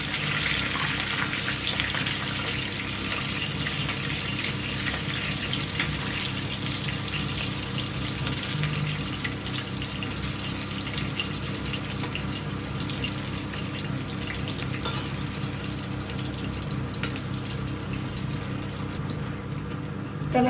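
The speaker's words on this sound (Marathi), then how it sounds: "दुसरं पण मिरच्या पण बघा किती छान फ्राय झालेल्या आहेत" Salt-stuffed green chilies fry in hot oil, producing a steady, dense sizzle that continues unbroken at even loudness throughout.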